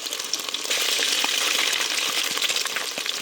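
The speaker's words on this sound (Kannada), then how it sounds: "ಮೊಟ್ಟೆ ಹುರಿದು ಮಾಡ್ತಾ ಇರೋದು" Eggs fry in a hot pan for a South Indian egg curry, making a continuous close, loud sizzle with small popping crackles and no talk.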